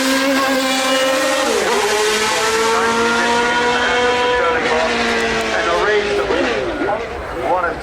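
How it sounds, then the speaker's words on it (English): A historic race car climbs the hill at Goodwood Festival of Speed, its engine loud and close with rising and falling revs through gear changes, heard beneath an announcer's commentary. "And it's a lovely drive up the hill by Marino Franchitti to demonstrate."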